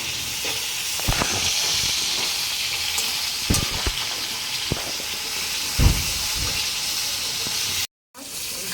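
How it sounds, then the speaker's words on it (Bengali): Pieces of rohu fish frying in hot oil, a steady loud sizzle with occasional sharp pops and scraping knocks of a utensil in the pan. "মাছগুলি এখন আমি ভেজে নিচ্ছি।"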